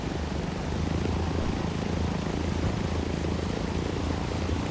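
Propeller plane engine in the video game Ghost Recon Wildlands, a loud, steady droning roar with constant buzzing texture that holds unbroken throughout, with no talking over it.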